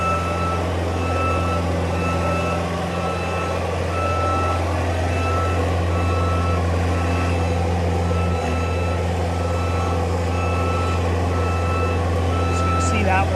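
A 2019 JLG 460SJ boom lift running at high throttle, a loud steady engine drone with a continuous tonal whine and rhythmic beeping, near and constant, with someone talking over it.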